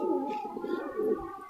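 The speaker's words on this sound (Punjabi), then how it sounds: "ਕਾਲੀਆਂ ਅੱਖਾਂ ਦੀ ਕਬੂਤਰੀ ਆ ਜੀ" A black-eyed female racing pigeon coos softly up close, a short low rolling call lasting about a second and a half in a quiet setting.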